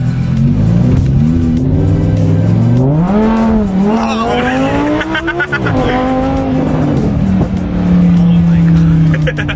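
A Lamborghini Huracan engine roars loud and close while the car is driven, rising and falling through revs and downshifts, with a short exclamation from a passenger over the noise.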